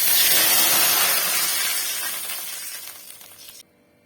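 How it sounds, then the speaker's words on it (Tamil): A loud rushing hiss and sizzle as water is poured into a hot pan of vermicelli for semiya kesari, fading gradually before cutting off abruptly. "இரநூறு கிராம் சேமியாவுக்கு இரநூறு கிராம் தண்ணி அளந்து சேர்த்துக்கிறேன்"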